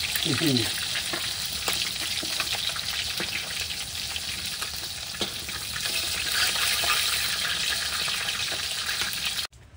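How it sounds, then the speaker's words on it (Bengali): Large pangas fish from a Sundarbans river fries in a pan with a loud, continuous close sizzle and occasional stirring, with no talking. "মাছ ভাজা হয়ে গেছে, নামাই দিই।"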